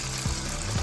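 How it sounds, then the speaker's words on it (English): Ginger beef frying in a wok gives a short burst of hissing sizzle with faint movement under it. "Now we're gonna fry the ginger beef."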